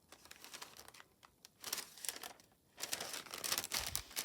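An old rice paper letter from 1948 gets handled, giving soft crinkling and rustling in irregular bursts, quiet and close, growing busier toward the end.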